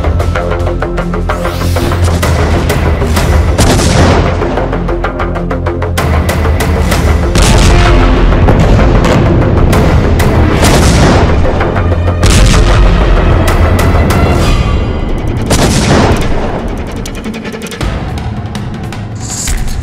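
Heavy bombardment and gunfire during the Gaza war, with loud repeated booming blasts and cracking shots rolling one after another for about twenty seconds, dense and unbroken.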